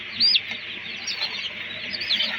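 Dense, continuous high-pitched cheeping of many young poultry chicks inside an enclosed poultry house, a steady chorus with a few sharper chirps standing out near the start and end.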